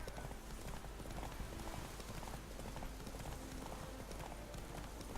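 Horse hooves clip-clop steadily in The Witcher 3 game, a continuous rhythmic trot of several horses under soft ambient noise, fairly faint.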